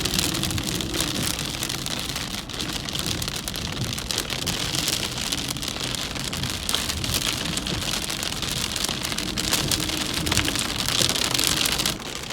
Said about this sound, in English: This is a severe thunderstorm that I'm literally in the middle of